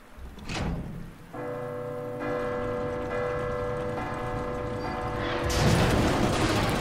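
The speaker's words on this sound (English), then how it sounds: "That is one unstable bell." A church bell rings in the Resident Evil 2 remake, its sustained metallic tones droning steadily over a patter like rain, with a sharp mechanical knock near the start and a louder rumbling surge at the end.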